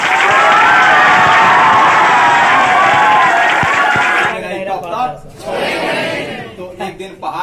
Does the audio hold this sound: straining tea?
no